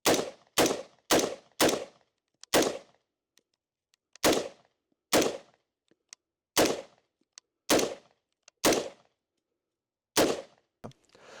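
Loud shots from an army AR-15 rifle during a durability test crack out one by one, some in quick pairs, with short pauses between bursts and silence in the gaps.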